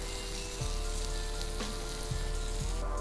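Onions, tomatoes and green chillies cook in a pan with a steady, close sizzle and a few soft stirring bumps, no voices.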